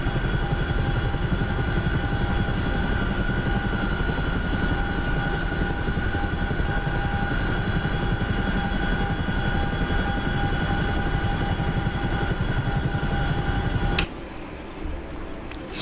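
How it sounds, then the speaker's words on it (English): Chinook twin-rotor military helicopter in a video game, flying in as a friendly aircraft: a steady, loud droning rotor and engine rumble that holds level throughout, then drops away abruptly near the end. "Here's a friendly Chinook coming in too also."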